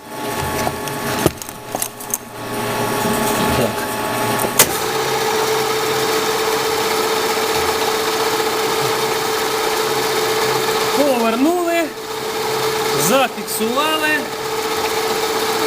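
A milling machine cuts gear teeth in D16T aluminium, a steady loud machining drone running throughout, with rising and falling whining sweeps near the end and brief clanks early on.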